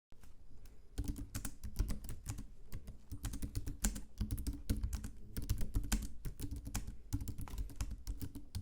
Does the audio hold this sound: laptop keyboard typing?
yes